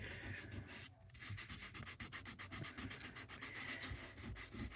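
Embossed paper with a pearly coating is hand-sanded in quick, rhythmic back-and-forth strokes, a soft close-up scratching rasp with no voices.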